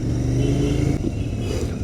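Royal Enfield Continental GT 650 motorcycles ride together at night, one a Red Rocker and two Mister Clean, their parallel-twin engines thrumming close and loud in a steady burble with a short throttle change midway.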